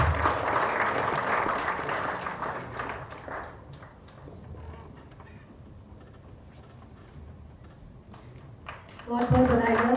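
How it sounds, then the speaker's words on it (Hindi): A crowd claps loudly for a few seconds at an Ayurveda conference event honoring a minister, the applause thinning out and trailing off into a quiet room before a voice begins. "जोरदार तालियां सभी के लिए हो जाए"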